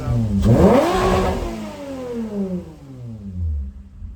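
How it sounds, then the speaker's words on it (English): A Toyota MR2 SW20 with a 2GR V6 revs hard toward a 7400 rpm redline. The engine sweeps up loud and close, then falls away in a long descending drone and blips once more near the end. "I want to check and see how this thing redlines now, make sure it's up at the 7400"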